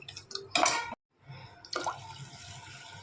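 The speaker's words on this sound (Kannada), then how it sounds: "ನೋಡಿ ಇಷ್ಟು ನೀರು ಹಾಕ್ತಾ ಇದ್ದೀನಿ ನಾನು" Water poured into a pressure cooker for gravy, in short close splashing bursts separated by a brief silent gap.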